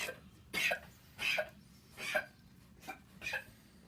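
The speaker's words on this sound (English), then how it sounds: "Now I got another goat coughing over here." Five harsh, hacking coughs from a Nigerian Dwarf goat come one after another, spaced about a second apart, fairly close and with nobody speaking.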